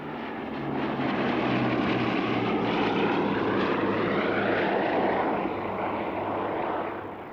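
A Mark IV fighter aircraft flying at the 1995 RAF Fairford air show, with a steady, loud propeller-engine drone that holds for several seconds as it passes, then fades slightly at the end.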